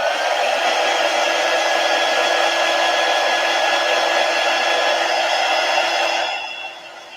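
A hair dryer dries a Chalk Couture chalkboard sign, blowing with a loud, steady, continuous whir for about six seconds before cutting off and leaving a quieter tail.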